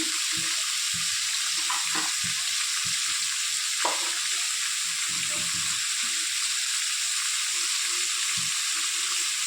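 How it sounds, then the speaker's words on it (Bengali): Pumpkin pieces fry in a pan with turmeric and salt, giving a steady close sizzle throughout with occasional stirring clinks and scrapes, no talking. "আর হলুদ দিয়ে আবার ভাজা করে নেব।"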